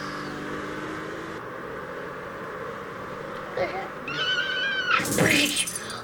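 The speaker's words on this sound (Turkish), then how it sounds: "Arkadaşlar düz duvara direkt araba çarptı." Roblox video game car slamming straight into a wall: an engine hum builds, then a loud, sharp crash with crunching and shattering near the end.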